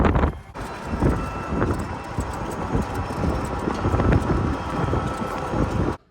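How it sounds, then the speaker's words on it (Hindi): A strong, cold wind blows outdoors, a steady broadband roar holding for about six seconds before it cuts off abruptly. "सख्त ठंडी हवा चल रही है"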